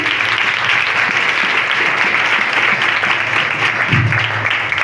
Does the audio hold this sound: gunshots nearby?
no